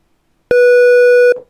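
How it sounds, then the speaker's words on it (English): A pure sine-wave test tone generated in Python plays as a single steady electronic beep of about 0.8 seconds, loud and clean with faint harmonics, starting and stopping abruptly with no talk. "This is the way we can generate sine waves with Python."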